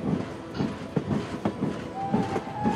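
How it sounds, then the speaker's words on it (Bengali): A train in a detective audio drama rolls out of a Kolkata station and gathers speed, with a steady clickety-clack of wheels over rail joints and a faint rising squeal near the end. "আস্তে আস্তে ট্রেন গতি নিল।"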